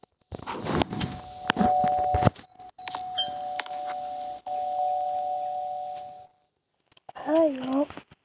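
A two-tone electronic doorbell chimes a few times, with brief footsteps and bumps around it and a voice speaking near the end.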